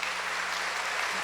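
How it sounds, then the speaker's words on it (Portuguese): A church congregation applauds Monsignor Jonas in a brief, soft wash of many hands clapping, heard at a distance without talking. "uma salva de palmas ao Monsenhor Jonas"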